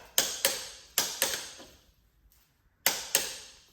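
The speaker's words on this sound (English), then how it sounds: "So now I'm going to torque everything down." Torque wrench tightening engine mount bolts on a VW MK7, heard as crisp, close clicks in pairs and singles with a short pause between groups.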